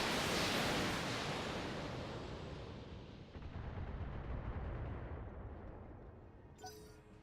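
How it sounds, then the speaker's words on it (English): Mech weapons in a BattleTech battle let out a loud burst of blasts that rumbles and slowly fades, followed by a second, softer swell of rumbling fire, with no voices over it. "firing on target."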